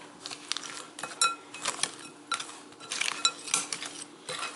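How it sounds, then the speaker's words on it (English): A spoon stirs lemon juice in a bowl, giving light scraping and clinking strokes that repeat in an uneven rhythm, close and fairly quiet, with no voices. "I'm just going to mix it up now with the spoon"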